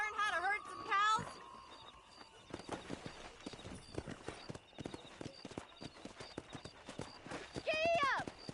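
Steady clip-clop of a horse's hooves in the video game Red Dead Redemption trots along close and clear for several seconds, with a horse's whinny at the start and again near the end.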